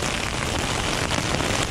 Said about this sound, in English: it is just thundering and lightning and hail, and it came out of nowhere